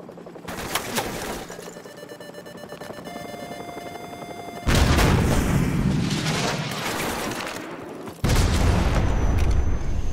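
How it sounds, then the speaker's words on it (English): Stinger missile launches and blasts in Modern Warfare gameplay, aimed at a helicopter: sharp cracks and a hissing launch, then two heavy booming bursts that hit suddenly and roll on loudly, with a tonal whine early on. "So, grab another Stinger and fire again!"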